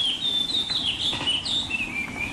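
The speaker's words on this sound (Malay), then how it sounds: "Burung murai." An oriental magpie-robin sings outdoors, a run of clear, varied whistled phrases rising and falling in pitch, fairly close and continuous over a low background hum.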